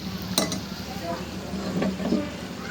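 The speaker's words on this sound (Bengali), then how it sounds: "একটু নাড়াচাড়ার মধ্যে রাখছি, কারণ হচ্ছে ভাজাটা যেন ভিতরের একটা ভালো করে একটু সিদ্ধ হয়ে যায়" Fritters frying in a pan while being turned and stirred, with a soft sizzle beneath a few scraping and light metallic clinks from a utensil, heard close up.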